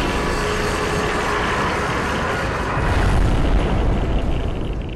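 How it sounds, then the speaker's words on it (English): A nuclear bomb going off in the monster game Kaiju Universe, a loud, continuous rumbling roar that swells into a deeper, heavier boom about halfway through and then holds, with no talking. "Apparently spiders can't survive my nuclear bomb"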